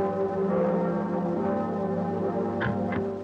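Cathedral bells peal at Reims during grand ceremonies celebrating the cathedral's reconstruction, a dense sustained ringing with overlapping tones, loud and continuous for several seconds.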